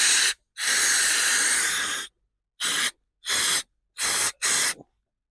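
Bursts of aerosol spray go through a long-reach nozzle into a hole in a Mini Cooper's top. One long hiss is followed by four shorter puffs, all close and loud with silence between them.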